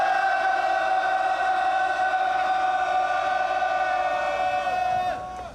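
A large crowd at a Korean rally of power-industry workers defending the sector's public character shouts in unison in one sustained, loud roar lasting about five seconds, then cuts off abruptly.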